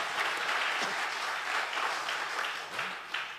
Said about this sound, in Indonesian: Beri tepuk tangan buat Tuhan Yesus